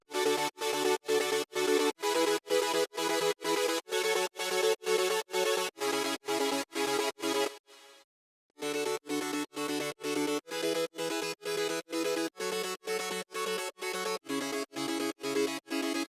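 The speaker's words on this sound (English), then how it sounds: "So I have used only 2 layers for super saw chords." Wide supersaw synth chords stab in a steady repeating rhythm, bright and buzzy, pausing briefly for a moment before the pattern resumes.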